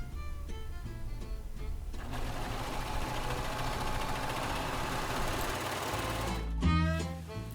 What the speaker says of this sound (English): So we're going to serge going up